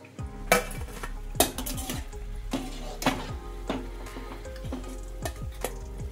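Bread pieces fry in ghee in a pan for double ka meetha. Metal utensils clink sharply against the pan several times over a faint, steady sizzle, close up, with no voices.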